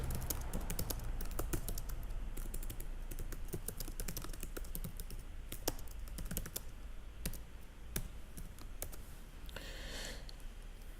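Rapid, uneven clicking of keys on a computer keyboard, close and continuous, with no speech.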